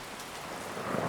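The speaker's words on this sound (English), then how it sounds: "There'll be rain tonight. Let it come down." Rain as a sound effect in a comedy skit: a brief, steady downpour patter with a low, rumbling undertone like distant thunder, fairly quiet, with no speech over it.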